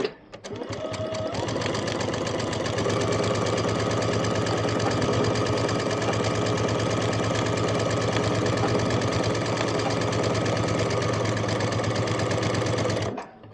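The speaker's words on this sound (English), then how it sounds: "back at the sewing machine, ready to do our seams" A sewing machine stitches quilt rows together continuously, its fast rhythmic mechanical chatter steady and close, running almost the whole time before stopping.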